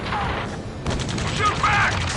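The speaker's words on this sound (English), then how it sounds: "Return fire! Sierra 2, hold position! We're cut off! Taking fire!" Gunfire rattles through a firefight in the video game Ace Combat 7: a dense, continuous fusillade of shots over a rumbling battle bed, with voices faintly mixed in.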